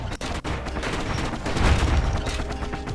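Shooting in the Bastion video game, a couple of sharp shots at the start followed by a dense rumble of fire and low booms, fairly loud.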